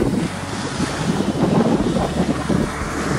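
Strong onshore wind at a Sea of Japan surf beach, a continuous loud rushing roar buffeting the microphone, with surf noise blended into it.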